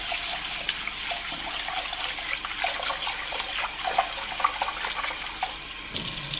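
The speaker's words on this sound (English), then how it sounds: "So I washed with just a little bit of water" Water sloshing and trickling as short grain Calrose rice is rinsed by hand in a bowl, a steady close wet swishing with small splashes throughout and no talking.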